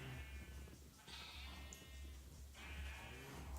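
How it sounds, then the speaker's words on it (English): Sheep bleat in the video game Minecraft, several wavering calls rising over a constant low background, fairly close and loud, with no talk over them. "All right, sheep."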